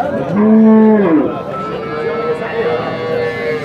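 A cow gives a loud, drawn-out moo near the start, then a lower, steadier lowing continues with faint background noise.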